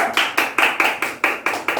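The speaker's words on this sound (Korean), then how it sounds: "박수!" A church audience claps together in a quick, even rhythm, about nine sharp unison claps, close and loud.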